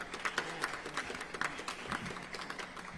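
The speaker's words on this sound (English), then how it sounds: "Yes, you can clap that up." Scattered applause from an outdoor audience at a city announcement about Fourth of July fireworks and a concert in Reservoir Park, Harrisburg; a steady, fairly faint patter of clapping with a few sharper individual claps.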